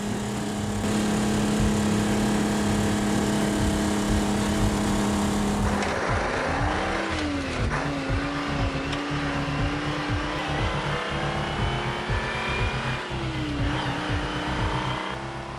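A 27-liter Rolls-Royce tank engine with a Roots supercharger runs loud and steady in a workshop, a constant harsh droning roar with a rising supercharger whine, its pitch shifting and surging partway through.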